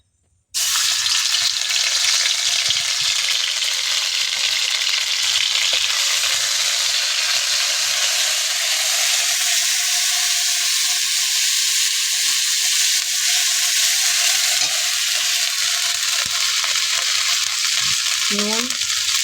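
Cumin seeds fry in hot oil in a heated kadai, a loud steady sizzle and crackle that starts abruptly and continues for nearly twenty seconds, with a faint spatter and scrape near the end.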